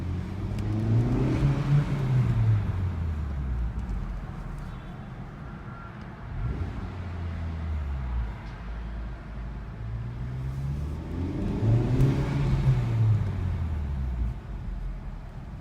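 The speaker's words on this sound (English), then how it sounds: "All right, we're gonna go for a quick little drive." A 2017-2018 Honda Civic Type R FK8 fitted with a K&N intake filter drives along, its engine note rising and falling through two swelling accelerations with steady road and wind rush in between, no talking.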